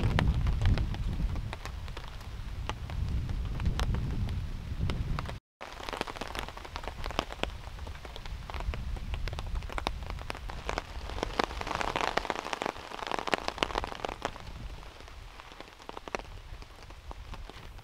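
Steady rain pattering on an outdoor tarp shelter during a wet overland camping trip, a dense continuous patter of drops with occasional sharper taps, close and fairly soft, with no talk.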